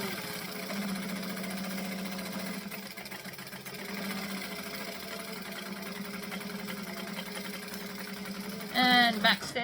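Sewing machine basting fabric bag pieces together, a steady mechanical whirring hum running continuously up close, with a brief louder burst near the end.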